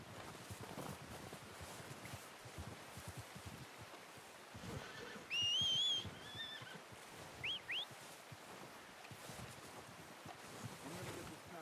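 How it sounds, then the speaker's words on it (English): Horse neighing in the video game Red Dead Redemption 2, one clear whinny near the middle and a shorter call soon after, heard over faint wind and ambient outdoor noise. "I'm gonna get this packed on my horse."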